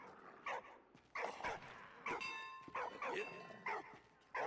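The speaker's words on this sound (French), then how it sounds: "Parce qu'il a ce chien, pourquoi il aboie à ce point?" Dog in the video game Soldats inconnus barking repeatedly in short, loud, evenly spaced yaps, heard up close with no speech.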